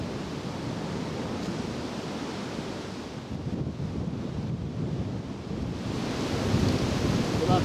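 Strong wind blowing around a Polish poncho tent shelter at a wild camp, a steady loud roaring rush buffeting the microphone throughout, building slightly toward the end, with no talk.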